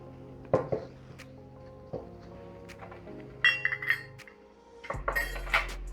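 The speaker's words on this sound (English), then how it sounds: "Give it a little stir so it dissolves the sugar and the salt." Salt and sugar stirred into rice wine vinegar in a kitchen, heard as a few sharp clinks and taps of a utensil against a glass or bowl, spaced irregularly and close, with no talking.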